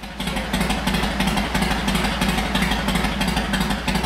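A Yamaha Road Star motorcycle engine idles steadily, warming up before an oil change, with a loud, even low rumble and a regular pulsing beat throughout, alone without any talking.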